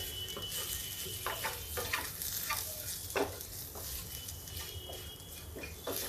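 Onion bhujia is stirred in a frying pan with turmeric and salt, a low steady sizzle under repeated scraping strokes of a spatula, close and fairly quiet.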